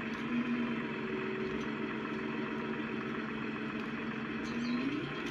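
A Massey tractor engine idles in Farming Simulator 19, giving a steady, continuous mid-pitched drone with a faint tonal hum that holds unchanged throughout, with no voices over it.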